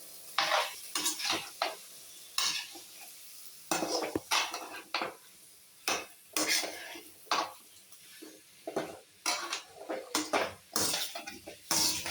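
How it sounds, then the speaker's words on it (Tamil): Parboiled vegetables are stirred with a utensil in a pot for Tirunelveli-style sodhi kuzhambu, giving repeated scraping and clattering strokes in an irregular rhythm, close and moderately loud, with a soft sizzle underneath and no talk. "நம்ம லைட்டாக வேக வச்ச வெஜி வெஜிடபிள்ஸை இதில் போட்டுக்கலாம் கிண்டிக்கலாம்"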